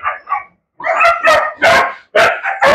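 A good-natured dog on an Egyptian breeding farm barks several times in close, loud succession, with a couple of softer yips at the start and a short pause before the fuller barks.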